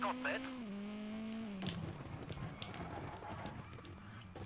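In the WRC 9 rally video game, a rally car's engine whines and shifts gear, fading into gravelly, choppy driving noise, heard faintly and continuously.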